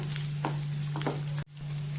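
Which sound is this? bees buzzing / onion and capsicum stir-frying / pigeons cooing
onion and capsicum stir-frying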